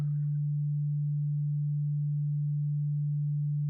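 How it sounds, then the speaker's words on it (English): A pure, steady sine tone from a Befaco VCO module in VCV Rack holds at one low pitch without change, following a brief faint click at the very start. "The reason why the sine wave from this VCO was sounding like it had a lot of high frequency content"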